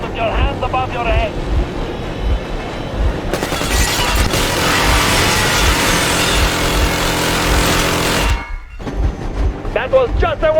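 Train engine rumbling in the video game Metro Exodus, a low, steady drone under voices that swells into a loud roaring burst midway before cutting out abruptly, then the hum returns beneath further speech.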